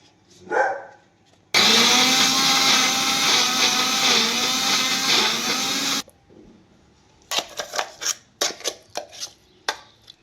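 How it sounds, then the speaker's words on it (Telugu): A mixer grinder grinding radish chutney whirs loudly for about four seconds, then stops, followed by several short bursts as it is pulsed on and off. "ఇప్పుడు మిక్సీ పట్టుకుందామండి"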